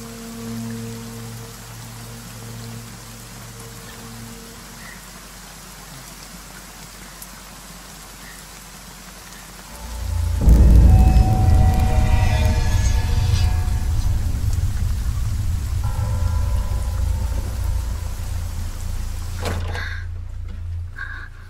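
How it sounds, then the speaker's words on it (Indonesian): Heavy rain starts suddenly partway through, jumping from a quiet backdrop to a loud, steady downpour close by that holds until it drops away near the end. "Sebelum hujannya semakin deras."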